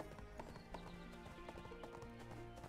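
Rhythmic hoofbeats of an elk or mountain goat mount trotting in the ArcheAge game, steady clip-clop layered over dense game music and ambience throughout.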